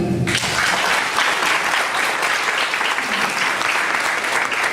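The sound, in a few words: applause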